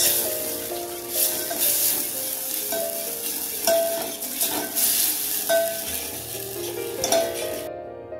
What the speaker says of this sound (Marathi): सोया सॉस ही चांगला परतून घ्यायचा